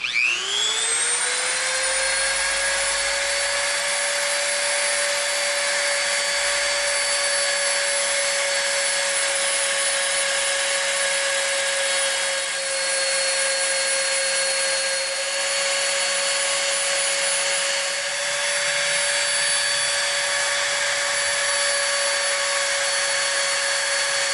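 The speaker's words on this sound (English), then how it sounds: "we want to slightly curve the insides of these. So we're going to come in with our Dremel." A Dremel rotary tool curves the inner edges of EVA foam parts for a Green Hornet gas gun prop, giving a loud, steady high-pitched motor whine that holds nearly unchanged for the whole stretch, with no talking over it.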